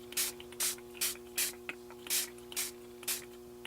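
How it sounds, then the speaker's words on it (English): Tattered Angels Glimmer Mist in the shade Leapfrog sprayed inside a spray box while making a Christmas card, eight short, crisp hissing bursts in a quick, even rhythm, close and clear against a faint steady hum. "I'm going to spray"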